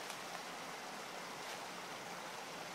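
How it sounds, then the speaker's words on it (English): A natural mountain creek flows in a steady, soft wash of running water, faint and even throughout with no voices. "this is one of these natural creeks"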